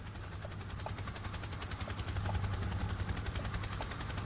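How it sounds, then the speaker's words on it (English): A helicopter's steady low rotor drone, fairly distant, with a rhythmic thumping pulse that swells slightly midway and holds. "I can hear a helicopter."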